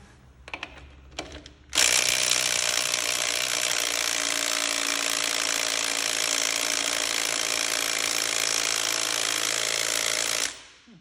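A Klein impact wrench hammers steadily at a stubborn fastener, a loud continuous rattling burst lasting about nine seconds after a few short taps, close up with no talk.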